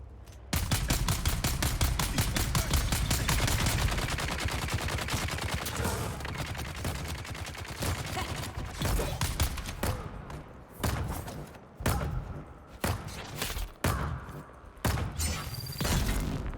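Turret firing in Dune: Awakening, long loud rapid-fire bursts with a steady rhythm at first, then broken into choppier volleys with short gaps.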